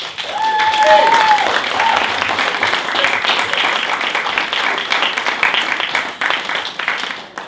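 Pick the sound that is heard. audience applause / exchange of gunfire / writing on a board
audience applause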